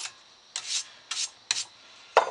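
Brush scrubbing a paint sprayer part, four short rasping strokes in a slow uneven rhythm, close and fairly quiet with pauses between, no talking.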